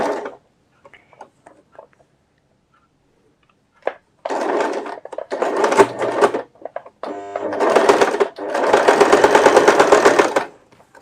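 A sewing machine stitches a readymade garment neck in several bursts, starting with short isolated clicks and then running in longer rapid whirring runs near the end, close and with no voices.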